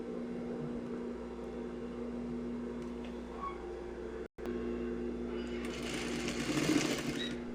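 A sewing machine stitches a seam on fabric with a steady mechanical hum, briefly cutting out and restarting, then running a bit louder and brighter as the fabric is fed through, close and alone.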